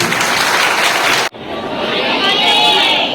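Seminar audience applauding, a dense, loud burst of many hands clapping that breaks off briefly, then swells again into sustained applause with cheering voices mixed in.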